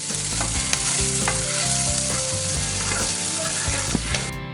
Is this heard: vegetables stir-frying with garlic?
yes